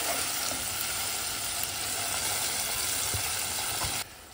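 An onion and tomato puree sautés in a pan with a continuous bright sizzle and faint stirring scrapes, steady and close, before the frying suddenly drops quieter near the end.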